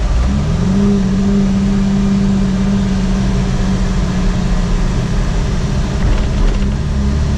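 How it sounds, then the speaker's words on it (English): A Jeep TJ Wrangler engine pulls hard in third gear from almost a dead stop, a loud, steady low drone with a rising tonal whine, heard close from inside the vehicle with no talking. "So even in third gear, coming pretty much to a halt, you can still accelerate."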